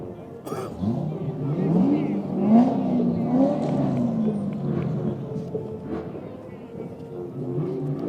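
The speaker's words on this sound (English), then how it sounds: "I can still hear them revving as they're going down the road." Cars revving their engines as they drive down the road in a Martin Luther King Jr. parade, rising and falling engine whines beneath a commentator talking.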